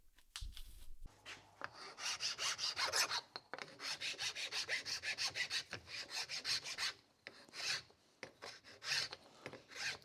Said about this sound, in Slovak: Píliť a brúsiť viete všetci.